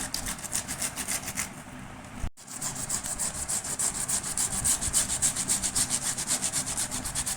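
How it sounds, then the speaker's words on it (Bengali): Tomatoes are grated by hand on a grater in a kitchen, giving continuous, rhythmic rasping strokes, loud and close, with a brief pause partway through. "আমি এরকমভাবে গ্রেটার করে গ্রেট করে নিচ্ছি"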